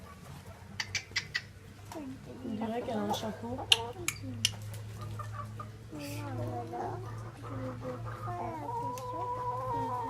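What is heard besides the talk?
chickens clucking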